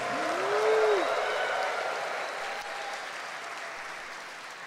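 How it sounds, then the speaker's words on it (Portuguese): A church congregation at an Ascension Mass gives a short burst of applause that swells quickly and then tapers off, heard from a distance in a reverberant hall. "Isso também merece uma salva de palmas, igreja."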